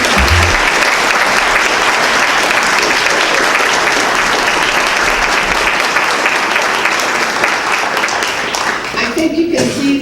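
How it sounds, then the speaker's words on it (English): An audience gives a speaker a loud, sustained round of applause at a public event, dense clapping filling the whole stretch before thinning slightly near the end. "round of applause for our speaker"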